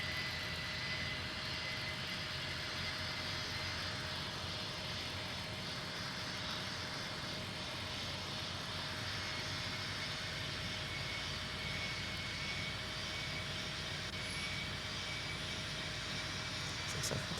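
Airliner jet engines roar steadily during takeoff in the Tower Simulator 3 air traffic control game at Raleigh-Durham, a continuous broad rumble with a faint whine, holding at an even level throughout with no voices.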